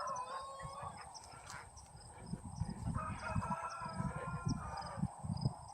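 Chickens in a hut cluck and crow, with a rooster's repeated calls and a chorus of hen clucks rising in the second half, fairly quiet and close with no speech.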